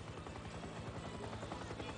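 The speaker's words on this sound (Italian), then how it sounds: "Entra in galleria con l'elicottero." A helicopter's rapid rotor thump pulses steadily over a Giro d'Italia road stage, a dense, even drone with faint background talk.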